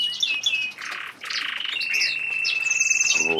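Chaffinch calling, with bright high chirps and short trills that come in quick, varied bursts. The bird sounds fairly close but moderately quiet, and no voices are present.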